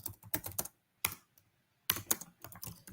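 Bursts of rapid typing on a computer keyboard while a complex programming prompt is entered, clustered clicks with short pauses between runs, close and clear with no talking.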